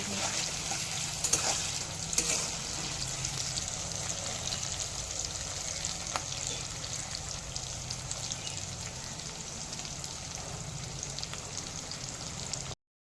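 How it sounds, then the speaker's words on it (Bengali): Onions sizzle and fry steadily with a little salt in hot oil, browning toward reddish, a continuous close crackling hiss with faint occasional stirs, no one speaking. "পেঁয়াজটা লাল লাল করে ভেজে নিচ্ছি"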